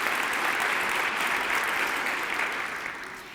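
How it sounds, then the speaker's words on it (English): A live audience breaks into steady, dense applause in a lecture hall during a talk by the CEO of REI. The clapping starts at full strength, holds, and then fades toward the end. "I'd say that one's worth a round of applause."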